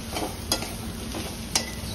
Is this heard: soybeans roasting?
yes